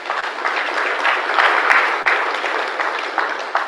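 Audience applauding panelists at the close of a climate finance discussion session on Nigeria, a steady, dense round of clapping filling the room, fairly close and sustained with no talking over it.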